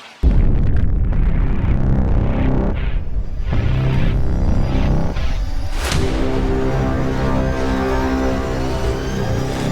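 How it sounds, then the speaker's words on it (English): A nuclear explosion sound effect, a loud, sustained roaring rumble that starts abruptly and stays heavy for about ten seconds, with a sharp crack near the middle. No voices. "in 2024 BCE, there was a nuclear explosion in the Middle East region"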